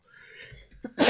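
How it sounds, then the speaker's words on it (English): A person lets out a single sneeze, with a short breathy build-up and then a sharp, loud burst close to the microphone. "I'm going to sneeze now."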